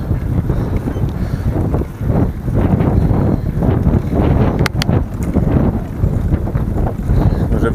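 Heavy headwind while cycling buffets the microphone in a continuous, loud low roar that swells and dips, with no clear voices.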